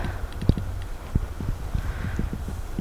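Horse hooves clip-clop unevenly on the ground nearby at a farm, a scattering of soft irregular thuds over a low steady background rumble.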